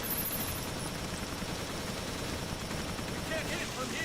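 Turret gunfire in the video game Resident Evil Revelations, a steady dense barrage of rapid shots and booming blasts that fills the whole stretch, loud and continuous with no pause.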